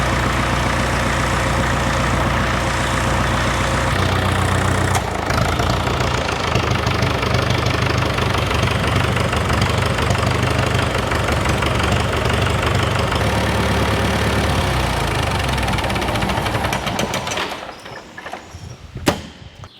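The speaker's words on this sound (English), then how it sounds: "I'll let it run for a couple of minutes, get some heat in the engine" An International TD6 crawler tractor's diesel engine idles steadily to warm up, a loud continuous low knocking rumble that holds for most of the stretch before dropping away near the end with a few clunks.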